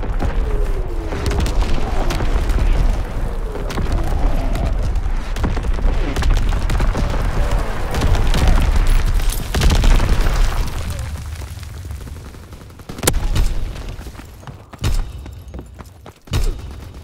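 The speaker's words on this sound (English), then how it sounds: "Incoming enemy artillery! Get to cover!" Enemy artillery explosions in Call of Duty WW2 rumble and boom through a loud battlefield, heavy blasts layered over continuous combat noise, followed by several sharp separate impacts near the end.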